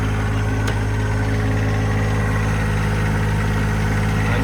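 A John Deere 1025R compact tractor engine runs steadily close by, a constant low droning hum with a faint mechanical whine and no voices over it.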